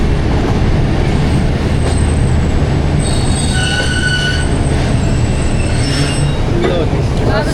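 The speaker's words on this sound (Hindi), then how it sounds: "और गुजरात रेलवे स्टेशन पे ट्रेन हमारी पहुंच गई है।" A train pulls into Gujrat railway station on the Rawalpindi to Lahore line, its wheels squealing in loud, high metallic whines over a constant heavy rumble and rattle of railcars, close by.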